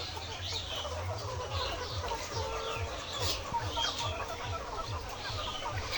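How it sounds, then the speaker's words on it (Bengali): A flock of Bovans White layer hens on a farm clucks continuously, many overlapping short calls forming a steady, moderately distant chatter with no pauses. "এই মুরগিটা হচ্ছে ভুবানোস হোয়াইট জাতের লেয়ার মুরগি"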